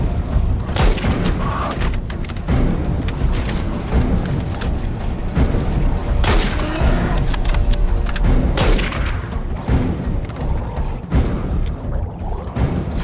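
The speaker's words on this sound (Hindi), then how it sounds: "गोली चलाओ गोली चलाओ गोली चलाओ, चलाओ गोली, आखिरी मौका है।" Loud gunfire rattles continuously, with sharp repeated shots and heavier booms overlapping throughout, close and intense.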